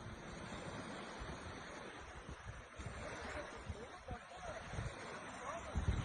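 Ocean water surging onto a shore in Turkey as a tsunami arrives, a rough continuous wash of surf and wind noise with low thumps, captured at a distance and fairly faint.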